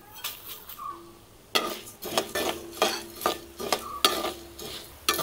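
Coriander seeds and fenugreek dry-roasting in a pan, stirred with a spoon in a run of rhythmic scraping rattles after a quieter opening, close and fairly crisp.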